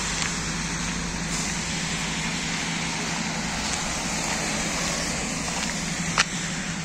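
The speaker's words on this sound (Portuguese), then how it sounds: "Autocarro poderoso." A large bus drives along a road on a rainy day in rural Germany, its engine giving a steady low rumble close by with a constant wash of road and rain noise.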